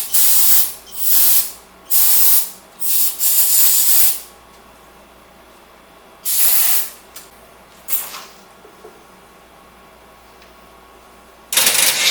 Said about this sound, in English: I'll put some starter fluid in and see what happens.